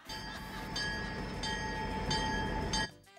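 A tram on the Santa Cruz–La Laguna line passes close by with a steady, loud rolling rumble and bright metallic tones for about three seconds, then the sound drops away abruptly.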